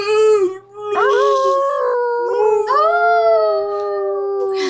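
A person imitates a dog's howl during a tabletop role-play game, a drawn-out wavering wail that rises and bends over several long breaths, loud and close with no other talk.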